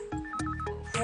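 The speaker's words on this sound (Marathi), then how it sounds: "फोन वाजला बघ" A telephone ringtone plays close and clear indoors in a Marathi TV serial, a short melodic sequence of bright beeping tones with brief gaps between phrases, alone without talk.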